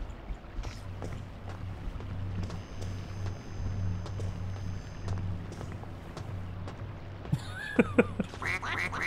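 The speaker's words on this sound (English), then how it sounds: "Did you guys hear that duck over there?" Duck in the game We Happy Few, a few quick quacks near the end over a low rumbling ambient bed, no talk.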